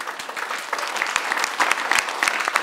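Studio audience at a Georgian night show breaks into steady applause, dense clapping that holds at an even level throughout, close and fairly loud, with no voices over it.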